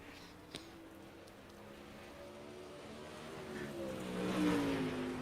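Modified touring race cars in a racing video game accelerating into turn one at a dirt Bristol Motor Speedway, engines droning low then swelling to a louder rising rev toward the end, moderately distant.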